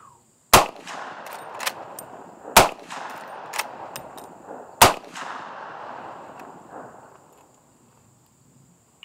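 Three sharp handgun shots ring out alone at spaced intervals, each followed by ringing reverberation, with a few lighter clanging impacts between them; the shots come from a handgun fitted with a Viridian HS1 laser hand stop.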